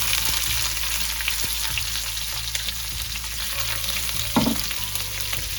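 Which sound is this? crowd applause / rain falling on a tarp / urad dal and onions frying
urad dal and onions frying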